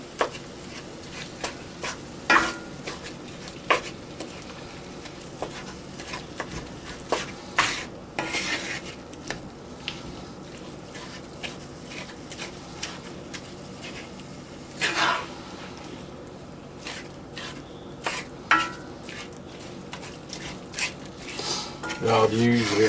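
Metal utensil scraping and clinking against a frying pan as ground meat is broken up and stirred, repeated irregular clatters at close range with faint sizzle underneath, no talking.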